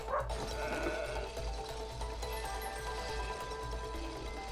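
Sheep bleat in the video game It Takes Two, set against a dense, steady bed of game music and ambience, with the animal call rising early and blending into the continuous soundscape.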